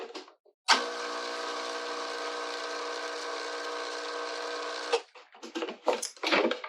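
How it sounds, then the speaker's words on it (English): A food processor blitzes lemon juice, zest and olive oil in one loud, steady whirring burst of about four seconds, followed by clattering handling noises. "I'm going to do a little blitz in the food processor"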